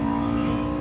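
A motorcycle engine revs as the rider rolls back onto the throttle after a downshift, a short, steady, loud drone close by with no pauses.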